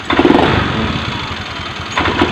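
A 2016 to 2019 Honda Beat FI ESP scooter engine, faulty and prone to stalling, revs in a loud, rough burst near the microphone, then sags and sputters as if about to die, with another brief blip at the end.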